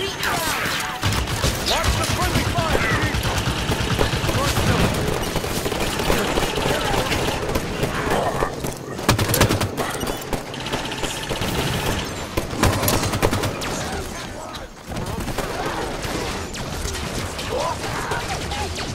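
Sustained turret fire in Halo 5: Guardians, dense and loud, with mechanical clatter and crashing impacts blending into a constant roar throughout.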